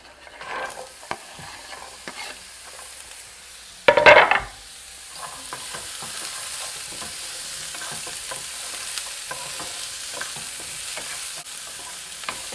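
Beetroot stir-frying in a hot pan with ginger and cumin seeds, a steady close sizzle throughout with scattered stirring scrapes and a loud burst of spitting around the moment water hits the pan, no talking.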